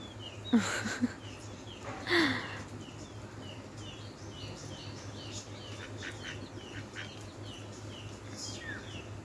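Domestic ducks feeding on fish guts and scraps outdoors, with a few sharp quacks and splashy flaps early on, then soft chirping birds and a low steady hum in the background.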